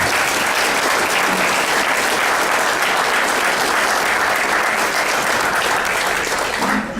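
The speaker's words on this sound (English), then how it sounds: "Let's have another round of applause for all three of these gentlemen." Loud, dense applause from the audience at a Maricopa congressional district debate, honoring three candidates, a steady roar of many hands clapping close by for about seven seconds with no break.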